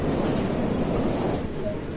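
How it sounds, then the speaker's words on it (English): Rackety train in Train Sim World 2020 braking to a stop, with a steady loud rumble of wheels and carriages and a faint high brake squeal throughout. "it's a very rackety train."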